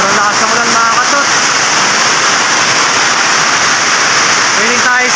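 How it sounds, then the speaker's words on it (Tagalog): Heavy rain pours down steadily as a dense, loud, unbroken hiss on a roadside in the Philippines, with faint traffic passing and a few voices briefly audible at the start and end. "Sobrang lakas ng ulan"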